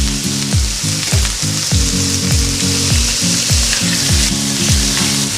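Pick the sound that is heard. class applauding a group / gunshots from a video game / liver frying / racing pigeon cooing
liver frying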